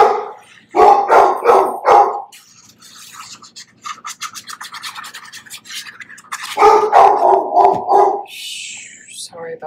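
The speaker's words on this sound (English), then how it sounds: "Sorry about my dog." A dog barks indoors in a home during a papercraft session, short sharp barks in bursts at the start and again near the end, loud and close, with quieter rustling in between.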